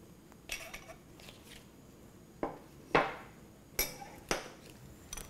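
Fried shrimp tossed in a pan with garlic butter sauce, several separate metallic clinks and scrapes of a utensil against the pan, close and spaced irregularly over a quiet background.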